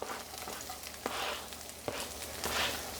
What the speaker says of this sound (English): we're going to throw the garlic in with the onion